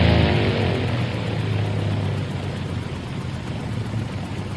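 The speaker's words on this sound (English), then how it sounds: "Holy smokes, the engine just cut out." An aircraft engine runs with a steady, loud, rough drone and low rumbling hum, easing slightly in level over several seconds, with no voices.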